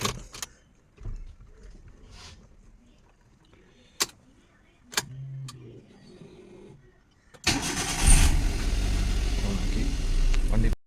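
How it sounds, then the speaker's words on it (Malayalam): An old vehicle with a silencer fault: a few faint clicks and knocks, then the engine cranks and catches, settling into a loud, steady, rough idle that runs to the end. "എൻജിൻ സ്റ്റാർട്ടായി കിടക്കുകയാണ് ഇപ്പം വണ്ടി ഇപ്പോൾ സ്റ്റാർട്ട് ചെയ്തിട്ടുണ്ട്"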